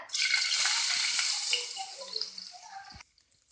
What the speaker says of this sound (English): once you get the nice aroma of the mustard, I'll be adding the dal here